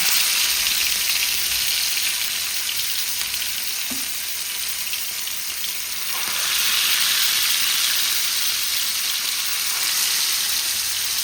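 Mackerel fillets with green masala and curry leaves fry in a hot pan, giving a steady loud hiss of sizzling oil that swells louder partway through, with a faint stir or clink in the middle.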